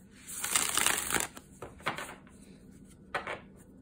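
A deck of oracle cards being shuffled up close, a dense riffling rush at the start followed by a few shorter papery flicks and slaps, moderately loud with no voices.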